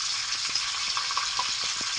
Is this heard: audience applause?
no